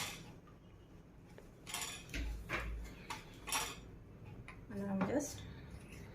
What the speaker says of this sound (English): mixing all these things